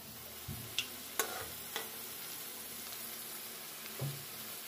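Batter-coated biscuits frying in a pan give a quiet, steady sizzle close by, broken by a few sharp ticks and soft knocks of a utensil.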